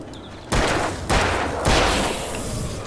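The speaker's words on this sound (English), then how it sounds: "3 shots, apparently." Three sharp gunshots in the video game Alan Wake ring out about half a second apart, each a loud blast with a short decaying tail, over a quieter ambient background.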